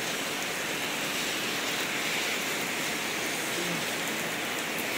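Heavy rain falls in Qatar as a steady, dense wash of close hiss and patter, continuous and fairly loud throughout with no voices.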